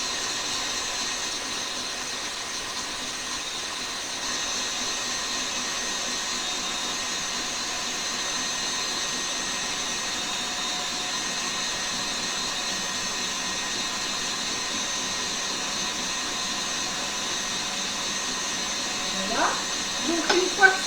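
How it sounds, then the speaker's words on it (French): Traditional stand mixer whisking egg whites and sugar for macarons, a steady, fairly quiet motor whir with a high whine, running continuously, with brief sounds near the end. "on laisse tourner le robot jusqu'à temps que ici au niveau du sucre et des blancs d'œufs ce soit touchable"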